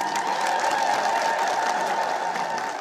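A church audience applauds together, a sustained, even wash of clapping from a crowd that continues unbroken across the moment without speech.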